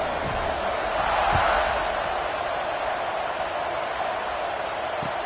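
Stadium crowd in an NCAA football video game, a steady broad roar of many voices swelling briefly and then holding, with a few dull thumps underneath.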